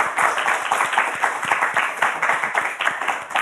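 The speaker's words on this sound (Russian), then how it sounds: "Эти аплодисменты тебе." A studio audience at a live talk show in Gomel claps steadily, with fairly loud, rhythmic clapping that runs evenly throughout and no talking.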